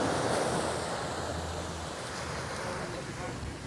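Ocean surf rolling onto a beach on Aruba, loud, continuous wash of waves mixed with strong wind buffeting the microphone.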